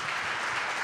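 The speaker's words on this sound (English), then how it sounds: "big round of applause for the Galloping Ghost tonight" A brief burst of audience applause at a club event, a steady wash of many hands clapping at moderate volume, under a second long.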